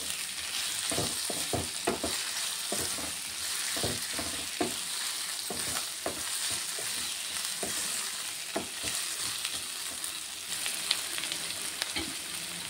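Vegetables with ginger-garlic paste and salt fry in a pan, a continuous close sizzle broken by irregular scraping knocks of a spoon stirring the pan.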